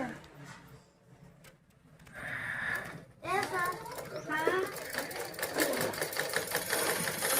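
A sewing machine stitching during a Narmada riverside pilgrimage stop, its rapid mechanical whirr starting up after a quiet spell, heard close under children's chatter and talk.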